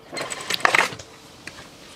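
Short whirring bursts of a sewing machine back-stitching at the base of a shirt's V-neck, a few quick runs back and forth, fairly close and moderately loud, then a faint tap at the end.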